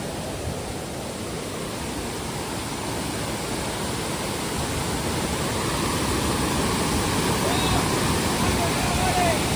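Loud, steady rush of a flowing river fills the whole stretch, a dense broadband roar that swells slightly toward the end as the water rises, with no voices.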